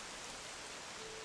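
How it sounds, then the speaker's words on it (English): Steady rain falls in an animated cartoon, a continuous dense hiss of raindrops with no pauses or other sounds. "it kept raining and raining. Not once did it stop."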